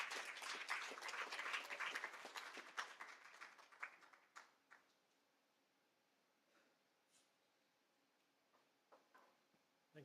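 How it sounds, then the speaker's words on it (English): A conference audience claps for a speaker walking up to the stage, with a loud burst that thins out over a few seconds into scattered claps and quiet room tone. "A round of applause for him as he comes up."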